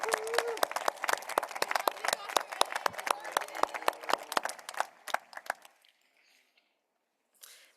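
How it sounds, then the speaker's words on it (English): Audience applause at a 2024 high school graduation ceremony: scattered sharp claps build into steady clapping for about six seconds, then stop abruptly, leaving near silence. "Please let's give them a large round of applause."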